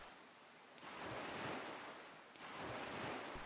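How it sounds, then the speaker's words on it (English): Ocean surf from the Zelda: Wind Waker HD video game, with steady wind-blown wash rising into two broad swells of breaking waves, loud and close, with no talk. "Until the waves go away."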